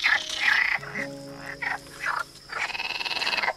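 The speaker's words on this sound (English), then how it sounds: "Just filming this for the frog noises." Frogs croak in the countryside in repeated bursts, some close and loud with rhythmic pulsing calls, others fainter, with brief gaps between calls and no talking.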